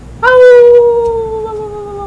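A person imitates a loud howl, one sustained, steady, slightly falling wail held for nearly two seconds, close and dominating.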